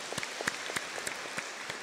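A church congregation in Huế applauds at a speaker's invitation, a steady, moderately distant patter of many hands with a few louder individual claps standing out.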